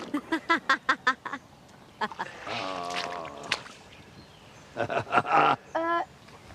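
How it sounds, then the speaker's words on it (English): Ducks quack in quick bursts, a rapid run of calls at the start, then a longer squawking stretch and another cluster near the end, fairly close with quiet gaps between. "Go get the ducks!"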